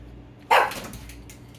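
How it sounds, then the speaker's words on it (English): A single sharp dog bark rings out close by, loud and brief, followed by quieter movement at an outdoor barbecue where chicken and pork are being cooked. "My dog was barking and looking right at me."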